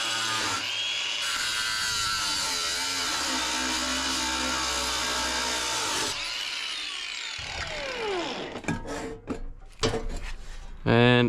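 An angle grinder cutting welds out of a scrapped welder, a loud sustained whine with a high metallic scream for about six seconds, then spinning down, followed by clanks and scrapes of metal being handled close by.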